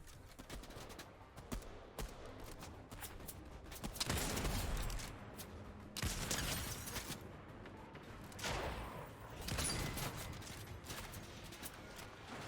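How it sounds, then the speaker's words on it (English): Hunter bolt-action sniper rifle fired in the Fortnite video game, heard as several sharp, loud gunshot cracks spaced a few seconds apart over a busy layer of game ambience and background sound. "I use the Hunter bolt action sniper, which actually has 3 shots"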